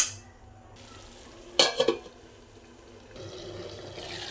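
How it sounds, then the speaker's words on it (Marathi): Water is poured into a cauliflower and potato curry cooking in a pan over a gas flame. A short splashing pour comes first, followed by a soft bubbling sizzle. "आता मी 1 पेला पाणी ओतणार आहे आणि मोठ्या गॅसवरती शिजवून घेणार आहे, झाकण ठेवून"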